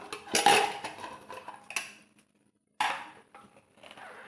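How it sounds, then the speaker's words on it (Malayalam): Lid of a pressure cooker being opened after cooking vegetables for Ayyappan kanji, with metallic clanks and clatter of the pot and cutlery, a short quiet pause, then more handling noises close by. "കുക്കർ ഓപ്പൺ ചെയ്ത് നോക്കാം"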